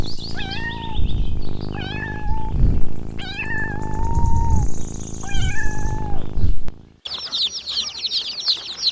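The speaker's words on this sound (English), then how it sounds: "Kitten." A kitten meows several times, each call a clear rising-then-falling cry, with steady background rustle and a brief burst of chirping bird calls at the very end.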